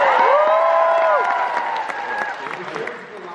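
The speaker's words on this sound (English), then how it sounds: "People who like to cheer and clap at the Sydney Global Round" An audience at the World Scholar's Cup opening ceremony, Sydney Global Round, claps and cheers. The burst of applause and voices is loud at first and then fades over a few seconds.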